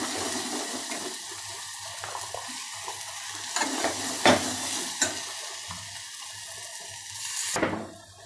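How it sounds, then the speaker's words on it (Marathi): Drumstick pods tipped into a sizzling red chilli masala, giving a continuous close frying hiss with soft stirring scrapes and a brief louder burst near the end. "इथं शेवग्याची शेंग टाकलीत मी आता मसाल्यात"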